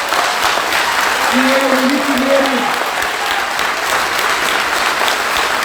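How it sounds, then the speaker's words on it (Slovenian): An audience applauds in support of the Slovenian police, with steady, dense clapping throughout while someone speaks briefly over it. "Zato se mi zdi prav, da z aplavzom podpremo slovensko policijo"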